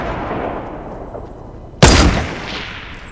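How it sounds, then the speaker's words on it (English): A single loud shotgun blast in Fortnite, sharp and close, ringing out over a low steady background hum and decaying quickly. "Yo, he took them all out with a shotgun!"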